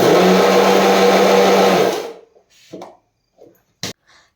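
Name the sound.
mixer grinder grinding dosa batter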